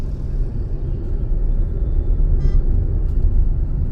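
Car engine rumbling during a driving lesson, a steady, close, loud low drone with no change in rhythm, with a couple of faint higher sounds over it.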